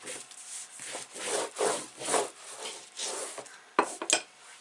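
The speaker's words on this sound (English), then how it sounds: "So I'm going to take my trimmer, just going to give that another good rub in to make sure it's all stuck down." Glued paper card stock for vintage shabby chic artist trading cards being rubbed down firmly with a paper trimmer, repeated close scraping strokes in a steady rhythm, ending with a couple of sharper knocks.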